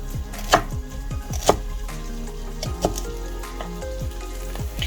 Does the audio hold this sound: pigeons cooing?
no